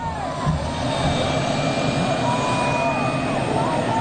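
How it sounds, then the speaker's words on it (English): A news helicopter passes over a 1996 high school football game, its steady whining engine drone sustained throughout at moderate loudness beneath crowd and announcer noise. "Car, if the chopper happens to go across the field, try to pick him up."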